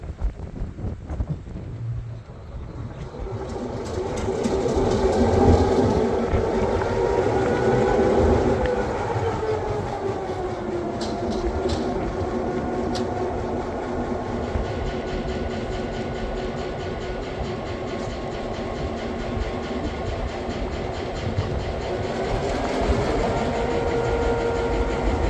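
A GP9 diesel locomotive moving out to the main line makes a steady, loud rumble with rail noise. The rumble holds throughout, swells early and carries faint wind buffeting.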